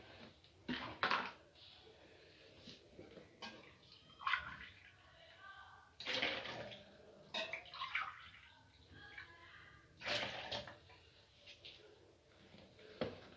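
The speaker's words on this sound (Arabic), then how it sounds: "كده هحط اللبن اهو." Milk is poured into cake batter in a home kitchen, heard as a close, liquid splashing in several short bursts with brief pauses between them.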